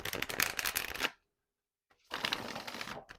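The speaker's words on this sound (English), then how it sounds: "So let's give it a shuffle." Ink Witch Tarot cards being shuffled up close in two bursts of dense riffling and flicking, each about a second long, separated by a brief silence.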